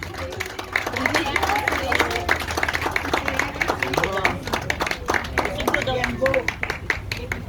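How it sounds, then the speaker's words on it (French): Applause for France Services agents at a Maison France Services gathering, a crowd clapping steadily for several seconds in a room with speech babble mixed in. "Je voudrais saluer les agents France Service qui sont là et qu'il faudrait qu'on les applaudisse"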